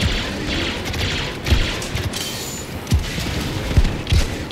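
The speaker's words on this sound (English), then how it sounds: "now I'm just firing these rockets randomly" Rockets fired by Boba Fett in a Star Wars video game, with several sharp booming blasts at irregular intervals over a steady bed of game noise and distant rumble.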